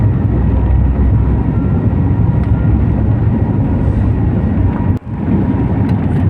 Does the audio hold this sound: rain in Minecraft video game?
no